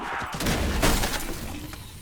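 A shield explosion from the Tortoise perk in Black Ops 4 bursts out loud and close, a dense crashing blast with shattering debris that stays thick for about two seconds.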